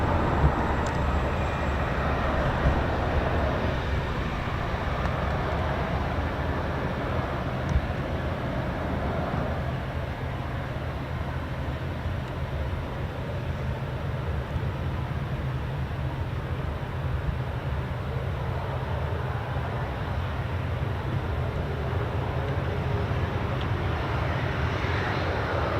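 Heavy US Air Force aircraft rolls down the runway on takeoff at an RAF base, a loud, continuous low engine roar with broadband rumble holding steady throughout.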